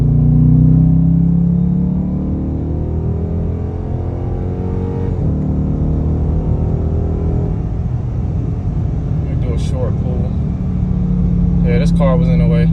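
A 2023 Dodge Charger R/T Blacktop Edition engine hums and rises in pitch as it revs and accelerates on a road, with brief voices and chatter near the end.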